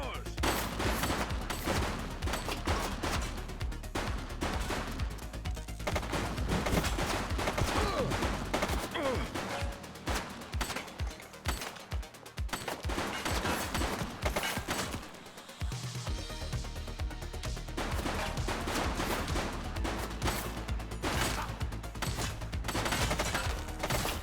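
Rapid gunfire from a police shootout in The Precinct video game, with dense bursts of shots and sustained automatic fire that briefly drops out before resuming, loud and continuous.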